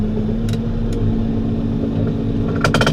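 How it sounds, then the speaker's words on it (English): A Case T5.120 tractor engine idles with a steady low rumble and rises as the throttle is opened, with a few brief sharp mechanical clatters over the running engine. "We done turned the throttle up, let the loader down"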